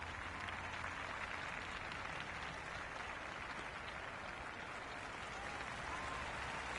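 Cricket crowd in the video game Cricket 26, a continuous, even wash of cheering and applause that holds at a steady level throughout, with no distinct individual claps.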